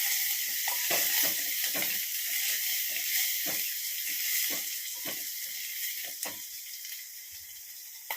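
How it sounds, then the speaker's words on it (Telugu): Dal tempering sizzles in a hot pan with a constant hiss of frying oil, broken by sharp crackles and pops throughout, close and fairly loud, with no voices. "పప్పు తాలింపు పెడుతున్నాను"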